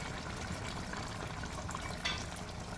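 Water is poured into a pot of curry steamed fish, a faint, steady trickling and splashing that runs for a few seconds with a small surge near the end and no talking.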